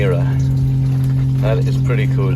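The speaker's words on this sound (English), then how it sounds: "The noise you can hear is the water maker running." A water maker runs aboard a sailing boat under sail, giving a steady, droning mechanical hum with a low tonal whine that holds constant beneath a voice speaking.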